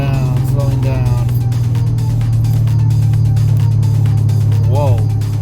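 The engine of a 2005 Mercedes E55 AMG with an upgraded pump drones steadily at speed while the car slows from about 90 mph, a loud, continuous low hum under excited speech from the driver.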